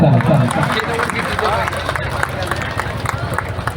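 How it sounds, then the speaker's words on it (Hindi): Villagers clapping at a gathering at Hata Bazar in Gorakhpur district, dense close applause mixed with crowd noise and a voice speaking over it. "अरे तालियां बजाते रहिए, मिजाज बड़ा अच्छा लगता है।"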